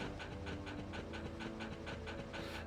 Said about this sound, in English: I hate these dogs